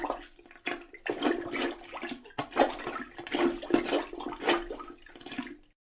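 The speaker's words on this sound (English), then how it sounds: "listen to the sound a plunger makes in a toilet" A plunger working in a toilet bowl, repeated wet sloshing and gurgling pumps in uneven bursts, close and fairly loud with no voices.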